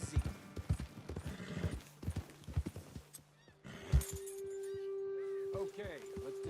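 Horses in Red Dead Redemption 2 clip-clop over ground in an irregular run of hoofbeats, then one whinnies, with a steady tone and soft movement sounds following, close and fairly loud.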